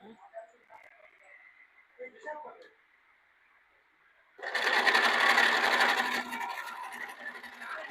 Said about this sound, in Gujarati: હવે સિલાઈ કરી નાખશું.